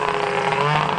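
A car with an MBRP exhaust can revs briefly, its raspy tone loud and near in a short continuous burst.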